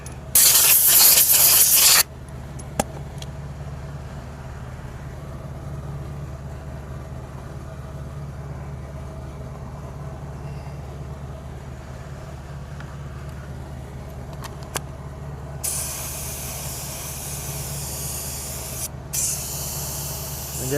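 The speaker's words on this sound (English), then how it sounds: "we're spraying away from the tire towards the center of the wheel here" A loud burst of aerosol paint spray hisses for about two seconds onto a Hyundai Santa Fe wheel, then a low steady rumble continues before a second long hiss near the end.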